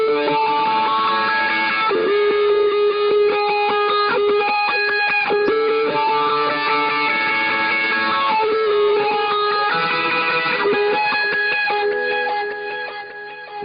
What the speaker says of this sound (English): in the instrumental I'm playing a pretty heavy overdriven sound with a wah part